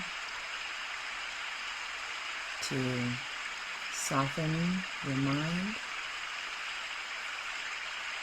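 Steady, soft rain hiss runs throughout as a continuous wash of sound, with a calm voice speaking gently over it.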